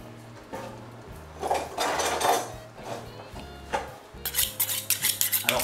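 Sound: knife slicing dried duck breast (magret séché)

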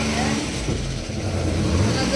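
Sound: car engine and exhaust silencer sound

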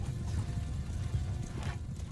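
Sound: horses in Bannerlord video game

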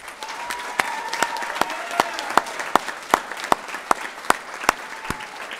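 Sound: audience applauding medallion winners at prize giving

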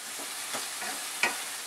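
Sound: tomatoes being fried and stirred in a pan

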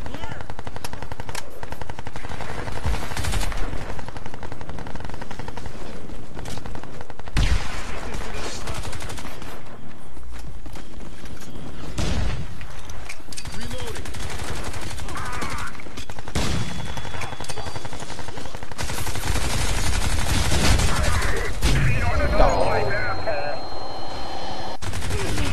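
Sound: gunfire from the video game Crysis 2 multiplayer

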